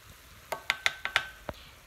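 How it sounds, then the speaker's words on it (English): Gumbo ingredients are stirred and sautéed in a pan, giving about six sharp, evenly spaced utensil clacks against the pan over a faint background. "So then I'm going to stir it in and saute it."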